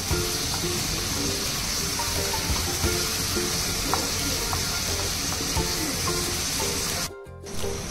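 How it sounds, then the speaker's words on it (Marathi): Sliced onion sizzles and fries steadily in a generous amount of hot oil for a Mangalore-style chicken gassi, a continuous loud crackling hiss with faint stirring clicks that briefly drops out near the end. "कांदा तेलामध्ये परतवून घेते."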